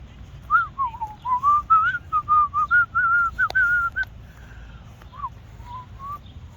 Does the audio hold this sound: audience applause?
no